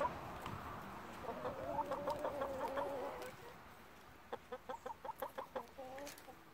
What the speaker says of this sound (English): So many chickens. So many chickens.